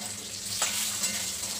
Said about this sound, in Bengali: আলুগুলোর মধ্যে সামান্য একটু নুন আর সামান্য একটু হলুদ দিয়ে আলুগুলো আমি লাল করে ভেজে নেব।